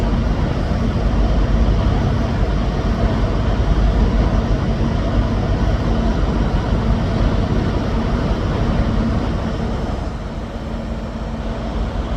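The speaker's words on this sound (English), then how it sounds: "Arriving in now is the 1359 Scotrail service from Aberdeen to Glasgow Queen Street" A Scotrail service from Aberdeen to Glasgow Queen Street pulls into Dundee station, a steady, loud low rumble of diesel engine and wheels that holds for about twelve seconds and eases slightly near the end, with no voices.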